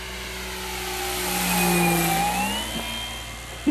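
A giant 2000mm P-40E Warhawk RC plane on 6S power makes a pass, its electric motor whine rising as it approaches, peaking, then shifting pitch and fading as it flies by.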